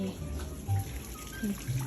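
Small decorative waterfall at a coffee shop, a steady close splashing trickle of water filling the whole moment with a few louder gurgles.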